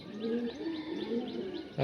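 Low, soft cooing from a champion-bloodline pigeon repeats in gentle rolling phrases, fairly close, with faint chirps in the background and a brief louder knock at the end.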